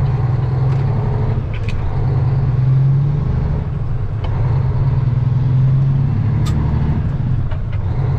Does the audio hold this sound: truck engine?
yes